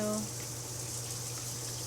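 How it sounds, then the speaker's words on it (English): Water sprays steadily from a detachable color-changing hotel spa shower head, a continuous broad hiss at moderate level after a short tonal blip at the start. "Let's see if I can grab it real quick to show you guys the different settings of water that it can change to."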